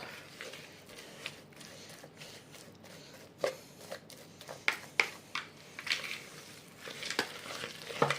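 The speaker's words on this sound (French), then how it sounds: "Le but, c'est de tout bien mélanger." Ingredients for a quick, cheap summer dish being stirred and mixed in a bowl, soft scraping with irregular clicks and taps of a utensil, quiet and close, with no talking.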